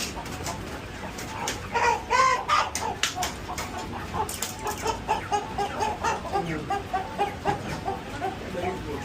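Chickens clucking in short bursts close by, with some background noise and scattered sounds throughout.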